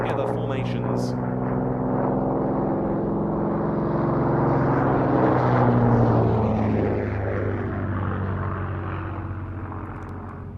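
A Hawker Fury biplane veteran of No. 43 Squadron, once based at Tangmere, drones overhead at a VE Day air show, its propeller engine swelling steadily to a loud pass and then slowly receding.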